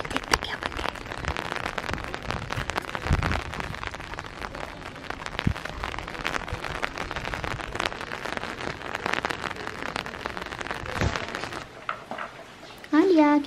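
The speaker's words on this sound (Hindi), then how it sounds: "बारिश हो रही है ना" Rain falls steadily on a rainy day in Sialkot, a dense patter with sharp drop hits close by. Someone talks briefly near the end.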